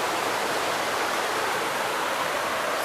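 Steady rush of flowing water from a river or waterfall in Jamaica, a continuous loud hiss without pause and with no voices.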